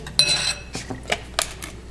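Dijon mustard, garlic, parsley and seasoning stirred in a bowl for a lobster tail dinner, with a few sharp clinks and scrapes of a utensil against the dish, close and unaccompanied by talk.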